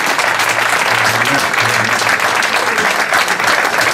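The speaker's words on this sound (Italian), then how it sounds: "merita un grande applauso" An Italian crowd at a hill-climb slalom awards ceremony in Oppido Mamertina claps loudly and steadily, a dense wash of applause with faint voices murmuring underneath.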